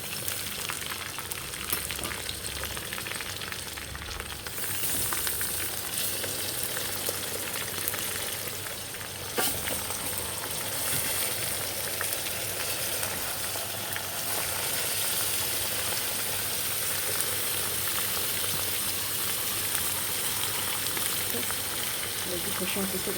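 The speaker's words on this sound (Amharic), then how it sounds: "ስለዚህ ከሽንኩርቱ ጋር" Chicken pieces and onions frying in a pan with garlic and ginger paste, a steady broadband sizzle running throughout with occasional stirring, with faint speech at times.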